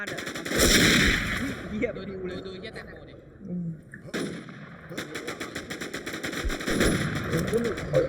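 Tank cannon and machine-gun fire in a tank video game comes in loud, close repeated bursts, rattling steadily while people talk excitedly over it.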